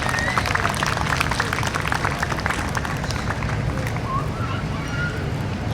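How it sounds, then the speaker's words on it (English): An audience claps steadily for a volunteer in a red shirt and glasses as he walks up, a dense continuous applause filling the room at close range, with crowd murmur mixed in. "people are clapping for him"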